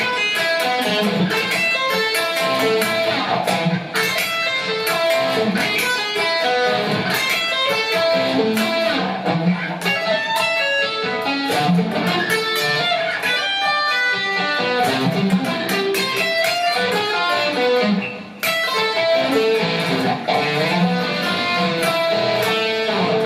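Guitar plays the first variation of Paganini's 24th Caprice at a slow practice tempo, a continuous run of picked notes with no pauses, sounding close and steady with no voices.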